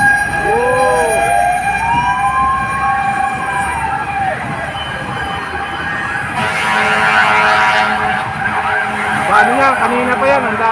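Fire truck sirens wail at a fire in Manila, several rising and falling tones overlapping close by amid street noise and engines, growing denser and louder partway through as more trucks arrive, with voices in the background.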